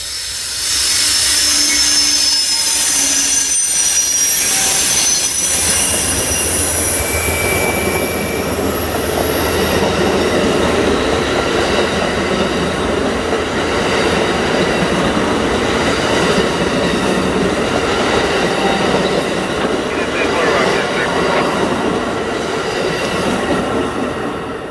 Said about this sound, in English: As soon as Amtrak 29 just passed me and cleared the crossing